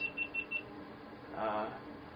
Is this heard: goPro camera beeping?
yes